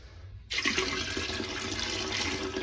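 A sudden rush of dirty water from a carpet cleaner's tank begins after a brief quiet, pouring and splashing steadily and close, like liquid being dumped down a drain.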